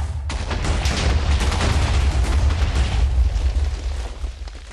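A Minecraft TNT explosion goes off as a long, loud, rumbling blast with crackling debris, deep and heavy throughout before fading slightly at the end.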